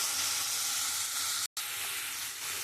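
Spice masala for a vegetarian chana dal, seasoned with dried red chillies, chilli powder and asafoetida, fries in a pan with a loud, steady sizzle that cuts out briefly before resuming.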